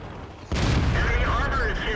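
A single heavy boom from a cannon shot in World of Tanks, fired by a T14 heavy tank, breaking in suddenly after a quiet moment and rolling on under a voice that speaks over the blast.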